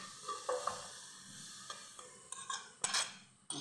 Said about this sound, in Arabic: نشوحها في الزيت او في السمنه على حسب ما انت عايزه.